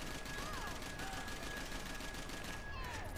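Rapid gunfire in the Max Payne 3 video game comes as a faint, continuous stream of quick shots held low and steady in the background.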